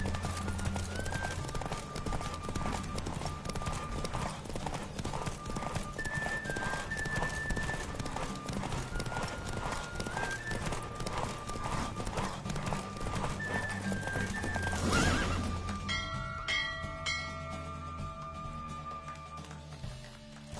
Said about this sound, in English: Don't spare the horse! Faster.